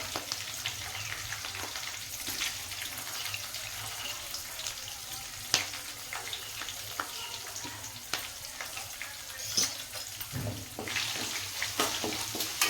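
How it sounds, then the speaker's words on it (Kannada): Garlic paste frying in a pan with curry leaves, a steady close sizzle with occasional stirring scrapes and clicks, no voices. "ಸ್ವಲ್ಪ ಇದು ನೀಟಾಗಿ ಎಲ್ಲ ಫ್ರೈ ಆಗಲಿ."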